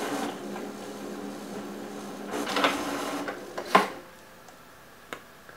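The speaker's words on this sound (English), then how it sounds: "like my printer that just went off" A home printer runs with faint mechanical whirring and feeding noise, then gives a few louder clicks and clunks near the end, fairly close and with no talking over it.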